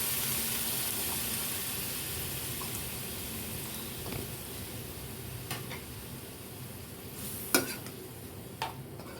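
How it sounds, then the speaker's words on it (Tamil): Tamarind water poured into bitter gourd pickle sautéing in a pan gives a steady, close sizzle with soft stirring and a few sharp clicks near the end. "இதில் நான் புளி தண்ணியும் சேர்த்துக்க போகிறேன்"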